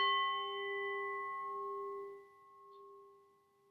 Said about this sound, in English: Allow the sound of the singing bowl to gently vibrate all through your being.